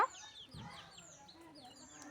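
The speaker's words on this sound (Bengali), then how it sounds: "এই যে মুরগির বাচ্চা দেখছ দেখছ মুরগির বাচ্চা দেখছ" Young chicks cheeping, a series of thin, high chirps scattered across a quiet outdoor scene, soft and fairly close, with a brief low thump.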